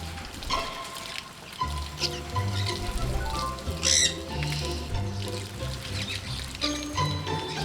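A pet parrot splashes in bath water, giving a busy run of close splashing and fluttering with occasional squawks, steady over several seconds and with no talk.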